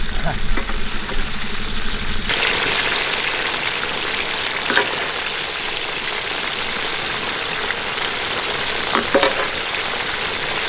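A giant black pomfret fish fries in hot oil, a loud continuous sizzle bursting up after a quieter start and holding steady and close, with a few faint clinks.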